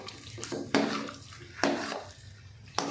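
Makhandi halwa being stirred and broken up in a pan over low heat, with a few sharp clanks of a spoon against the metal between softer scraping and moist shuffling.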